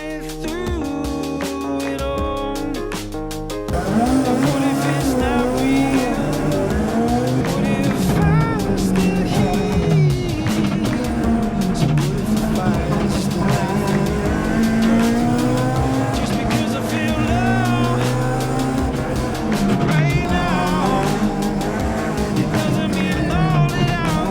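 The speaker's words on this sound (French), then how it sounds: "La voiture à propulsion n'est pas l'arme la plus adéquate sur route mouillée." A rear-wheel-drive rally car's engine roars and revs hard through gear changes on a wet road at the Tour de Corse Historique, with tire noise and a brief quieter start before the loud, sustained engine sound.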